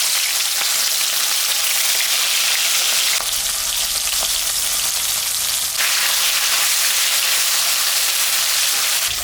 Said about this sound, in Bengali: আমি এখন মাছ ভাজবো।